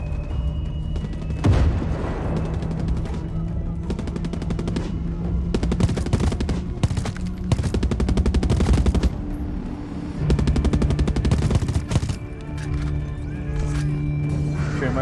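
Sustained automatic gunfire in the video game Far Cry 6, loud and dense rapid bursts with brief pauses, near and overwhelming, mixed with booms and game background noise.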